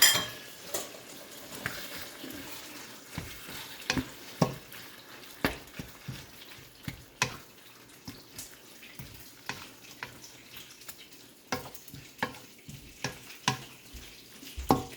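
A spatula scrapes and taps against a pan while egg is stirred into soft tofu over a quiet sizzle, the irregular clicks near and fairly crisp over about fifteen seconds, with no talking.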